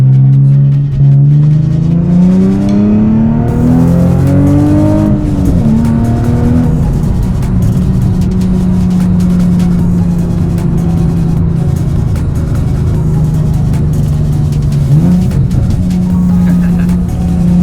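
A car with a newly installed clutch is driven hard, its engine loud and close, revving up through gears with pitch climbs, a shift drop and a later rise, droning steadily with faint voice traces beneath.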